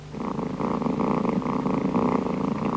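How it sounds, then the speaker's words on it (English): A close, steady kitten purr rumbles continuously, pulsing in a soft rhythmic throb with no other sounds. "A kitten's purr is caused by vibrations of its larynx."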